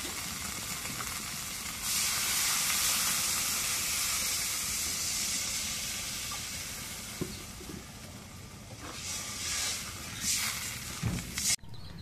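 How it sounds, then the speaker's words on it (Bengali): Potatoes fry in a pan with a steady, close hiss of sizzling oil that swells and eases. There is no talking. "আলু দেওয়া হয়ে গেছে, ভেজে একটু কষাই নিই"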